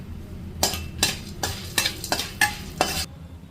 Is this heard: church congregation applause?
no